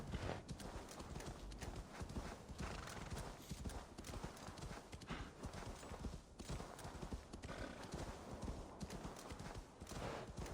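Rapid, continuous hoofbeats of a galloping horse in Assassin's Creed Valhalla drum along steadily for the whole stretch, fairly loud and close, with game-like clarity.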